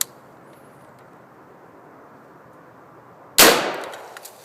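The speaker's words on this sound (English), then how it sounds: "It's actually going to be a military federal green tip 556 full metal jacket out of my evil Bushmaster AR-15." A single sharp rifle shot from a Bushmaster AR-15 firing green tip 5.56 full metal jacket at a flak vest, sounding after a long quiet stretch, loud and close with a decaying ring.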